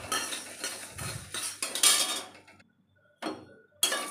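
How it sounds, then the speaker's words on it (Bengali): Coriander seeds being stirred in a pan over a low flame, heard as close metallic scraping and clinking of a spoon against the pan in irregular strokes, ending in short pauses and a final clatter. "প্রথমে দেব ধনেটা দিয়ে একটু নাড়াচাড়া করব।"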